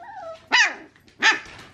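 Five-week-old puppies playing with an empty dog food bag, giving two sharp close barks about a second apart with a faint whine before them.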